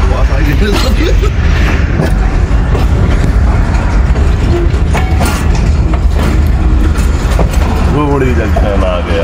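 A train runs on a railway track in Pakistan during a Karachi-to-Kashmore journey. A loud, steady rumble with rattling clatter fills the whole stretch, and voices talk over it.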